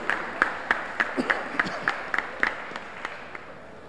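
An audience claps in thanks for the caterers at an awards banquet, a sparse patter of distinct hand claps at moderate distance that thins out and fades.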